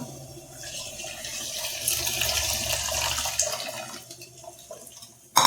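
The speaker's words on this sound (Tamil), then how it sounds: "இப்போ நம்ம புளி தண்ணி ஊற்றிக்கலாம்." Tamarind water poured into a pan of hot oil for a lentil-ball kuzhambu, a steady splashing pour with a hiss that runs for several seconds and then stops, ending with a sharp knock.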